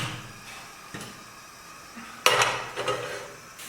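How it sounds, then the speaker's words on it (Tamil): Stove being lit and a pan handled while cooking butter garlic mushrooms: quiet kitchen background with soft knocks, then a louder metallic clatter and scrape of cookware near the end. "ஃபர்ஸ்ட் நம்ம அடுப்பை பற்ற வச்சுக்கலாம்."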